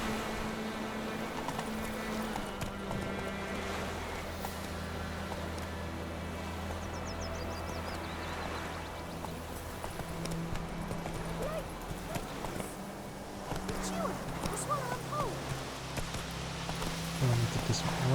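Horse hoofbeats clip-clop in a steady trotting rhythm while riding in the video game The Witcher 3, fairly quiet beneath game music and a voice speaking.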